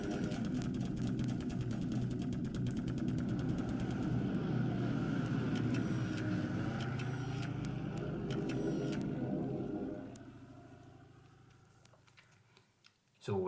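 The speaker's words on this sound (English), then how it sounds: "More B-17s attacking one island." B-17 bomber raid on an island in the War in the Pacific strategy game: a steady, loud drone of massed aircraft engines with scattered clicks and crackles runs for about ten seconds, then fades down before a sharp burst at the end.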